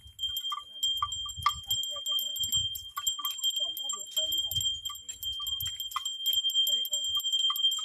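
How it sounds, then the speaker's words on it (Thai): A small bell worn by a walking animal rings repeatedly in quick, irregular jingles, clear and close, with people talking intermittently in the background. "เสียงกระดิ่งน้องนโมดังก้องไกลมากเลยนะครับ"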